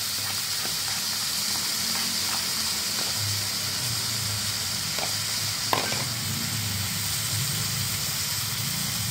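Tomato paste hits a hot pan of frying potato and pointed gourd, giving a steady close sizzle with soft stirring scrapes and a brief clatter partway through.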